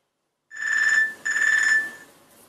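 A telephone rings indoors in two bursts of a bright electronic tone, starting after a short silence and close by, with the second ring fading out.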